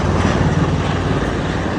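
A loud, steady drone from a passenger helicopter on the Shri Hemkunt Sahib route, with a deep throbbing engine hum, close and continuous throughout, with no voices.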